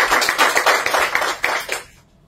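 An audience at a political party meeting bursts into close, loud applause, dense clapping that holds briefly and then quickly dies away to quiet.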